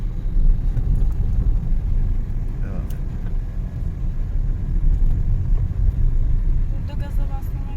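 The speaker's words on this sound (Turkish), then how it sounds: "rampa aşağı olduğu için araç zaten kendi hızlanıyor" A car rolls downhill on a slope during a driving lesson, its steady low rumble and road noise continuous and close throughout, with faint cabin sounds over it.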